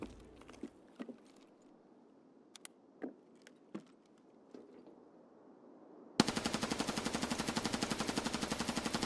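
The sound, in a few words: suppressive gunfire in a video game shooter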